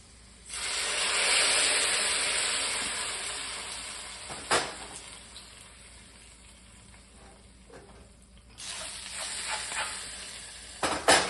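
Hot mustard seeds and shallots fried until reddish are poured into a Kerala-style farmed vala fish curry, setting off a loud hissing sizzle that slowly fades, with a few clinks and a second sizzling burst near the end.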